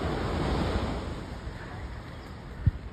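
Ocean surf at Sayulita, Mexico, washing in a continuous roar, waves breaking and rushing up the shore, with wind buffeting the microphone and a brief thump near the end.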